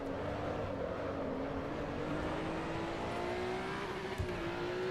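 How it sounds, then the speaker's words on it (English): A Maserati race car in the Assetto Corsa EVO racing game drives at night, its engine a steady droning roar whose pitch climbs slowly and evenly, loud and continuous, with no talking. "This is the Maserati."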